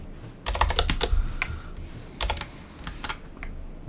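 Keys on a computer keyboard are typed in short, irregular bursts of close, crisp clicks with brief gaps, and no one speaks.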